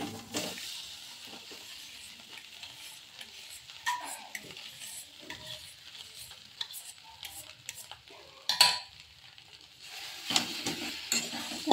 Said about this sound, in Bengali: ভালো করে মশলাটার সাথে আলুগুলো মিশিয়ে কষিয়ে নেব।